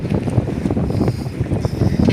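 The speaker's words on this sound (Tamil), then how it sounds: "காற்று அதிகம்" Strong wind gusts buffet the microphone out on open water during cast-net fishing, a steady, close, rumbling roar with no talking.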